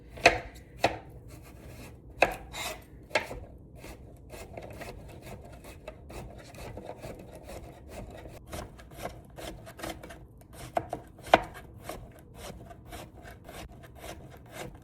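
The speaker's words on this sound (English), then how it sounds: "Now cut up your zucchini. Chop the end off." A knife chops zucchini on a cutting board, with irregular sharp thuds, some clustered in quick runs, and softer scraping between strikes, close and fairly loud.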